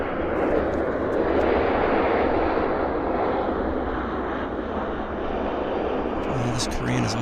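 A Korean Air airliner at Vancouver Airport roars steadily with broad, sustained engine noise, loud and close throughout, easing slightly before a few brief sharper sounds near the end.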